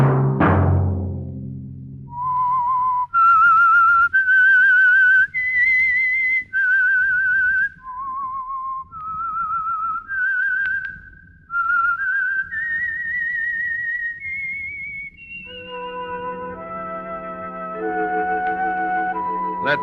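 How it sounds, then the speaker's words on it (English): A lone person whistles the eerie theme of The Whistler radio program, a slow, clear, wavering melody in separate phrases after a brief opening orchestral chord, ending on sustained accompanying music. "Let that whistle be your signal for the Signal Oil program, The Whistler"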